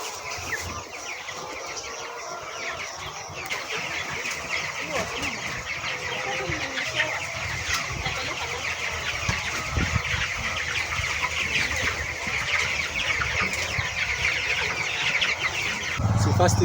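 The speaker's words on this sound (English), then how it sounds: "So in here we have our broiler chicken. There are about 400 of them at 33 days old." A shed of about 400 broiler chickens, 33 days old, clucking and chattering together in a steady, close, busy murmur that grows slightly louder toward the end.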